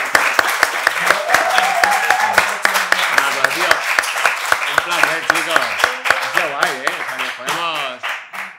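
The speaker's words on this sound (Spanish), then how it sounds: "un aplauso" An audience applauds at a book talk with an author in Granada, sharp claps over a dense wash of voices and laughter.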